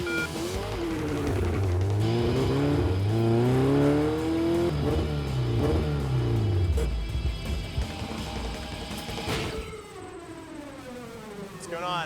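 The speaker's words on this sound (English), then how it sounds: "The engine sounds good, but there may still be problems." A 1969 VW Beetle engine revs hard on a quarter-mile drag run, its pitch rising and falling through gear changes before it fades. A voice talks over the engine noise.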